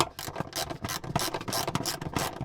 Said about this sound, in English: just doing the back nut up really